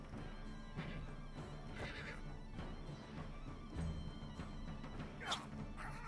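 A horse whinnies in the video game Wartales, several short neighing calls rising over a steady, busy game soundscape, with a sharper cry near the end.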